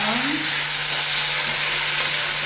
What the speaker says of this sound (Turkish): Ispanaklarımızı soteliyorum.